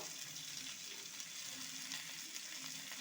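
Potatoes and peas frying in a pan give a steady, soft sizzle, fairly quiet and even throughout, with no voices.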